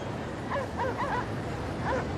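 Short yipping barks from a dog in the video game Cryostasis, four quick yips followed by one more after a pause, over a steady hiss of ambient noise.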